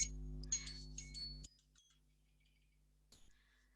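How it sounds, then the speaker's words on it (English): An electronic timer beeps in a quick burst of short tones over a steady hum, then stops, leaving a quiet room with a faint blip near the end. "Sorry, that's my timer going"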